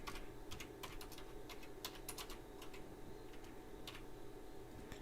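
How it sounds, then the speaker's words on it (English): Typing on a computer keyboard during a live coin auction, a quiet run of quick, irregular key clicks and taps over a faint steady room hum, with no talking. "my non-looking typing isn't very good"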